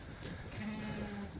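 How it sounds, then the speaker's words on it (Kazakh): Ten-month-old ram lambs bleat at a livestock sale, one drawn-out call standing clearly over a steady, noisy outdoor background. "10 айлық қозы қошқорлар,"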